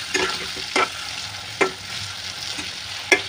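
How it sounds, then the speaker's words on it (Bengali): Shapla pata fish frying lightly in oil, a soft steady sizzle beneath a few sharp scraping stirs of a spatula against the pan. "এবার তেলে ভাজবো, বেশি ভাজবো না, হালকা করে ভেজে নেবো"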